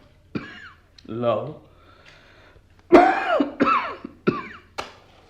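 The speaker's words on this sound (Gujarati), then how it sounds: "પપ્પા, તમને હમણાં ઉધરસ બહુ આવે છે." An old man coughs and clears his throat in a few harsh bursts, the first short, then a louder cluster of three close together near the listener, with a brief spoken word and breathing between them in a quiet home.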